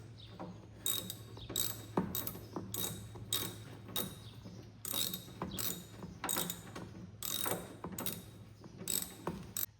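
Repeated ratchet clicks from tightening bolts on a Cub Cadet 1440 Cyclops garden tractor come in quick bursts, close and fairly quiet, with no talk.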